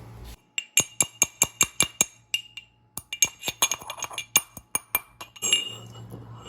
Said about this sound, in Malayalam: മസാല ചായയ്ക്ക് ഞാൻ ഇവിടെ 3 ഏലക്ക എടുത്തിട്ടുണ്ട്. അതിനെ ഒന്ന് ചതച്ചെടുക്കാം.